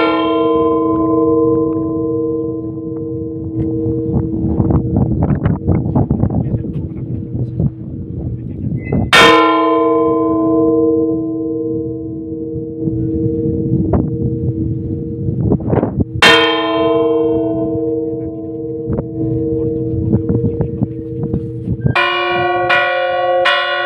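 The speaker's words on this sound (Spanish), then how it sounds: "suena tres veces la campana grande y después 20 veces la campana pequeña" Large and small church bells in Trébago, Soria: loud, sharp bell strikes ring out with long humming decay, a few big strokes spaced apart before a quicker run of smaller bell tones near the end.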